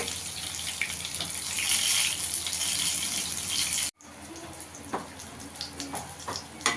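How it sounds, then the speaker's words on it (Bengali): Mocha sundari pieces fry in hot oil with a steady hiss and sizzle that cuts out abruptly, then returns as quieter crackling pops. "আর পিঠটা একটু লাল করে ভেজে নিতে হবে"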